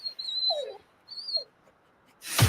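In a Milk-Bone dog treat commercial, a dog gives a few short high whimpers and whines, two thin bursts separated by quiet, followed by a louder broadband rush at the end.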